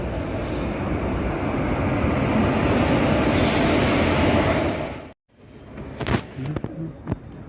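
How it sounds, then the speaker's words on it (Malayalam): Train arriving at a station in heavy rain: a loud, continuous rumbling roar fills the first five seconds, then cuts off abruptly, leaving quieter clatter and knocks. "വണ്ടി വന്നിട്ടുണ്ട്. ഇനി ട്രെയിനിൽ കയറിയിട്ട് കാണാം."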